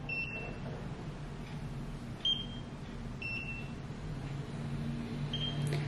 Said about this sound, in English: you will hear 2 beeps and then you move on to the next area